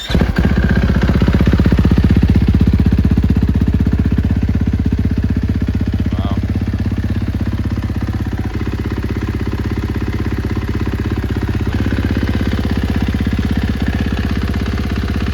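A 2023 KTM 450 SX-F motorcycle idles on its stand with a steady, close, low thrumming putter that holds an even pitch throughout.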